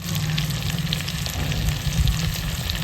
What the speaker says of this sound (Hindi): सबसे पहले तो ये प्याज डाल देते हैं, इनको कर लेते हैं ये हल्का सा ब्राउन।